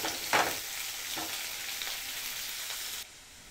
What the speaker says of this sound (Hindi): प्याज को बिल्कुल डार्क ब्राउन होने तक फ्राई करेंगे